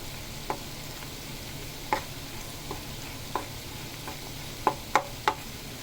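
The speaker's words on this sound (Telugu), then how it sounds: "అల్లం వెల్లి పేస్ట్ వేసాను. ఇలా నూనెలో ఫ్రై అవ్వాలి." Ginger garlic paste frying in oil in a pan for bitter gourd curry, a low steady sizzle with a few sharp spoon taps and stirring clicks spaced irregularly.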